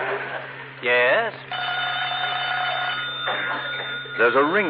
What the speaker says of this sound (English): Oh, that's the phone, Mr. Mayor.